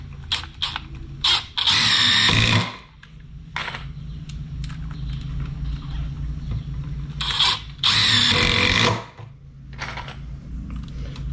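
A Milwaukee M18 impact driver drives 3-inch deck screws into 2x4 lumber in two bursts, each a loud rapid hammering rattle with spinning whir, separated by quieter handling clicks and background hum.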